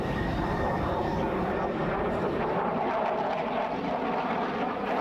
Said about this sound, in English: The Mirage 2000 strike fighters are equipped with a variety of strike weapons.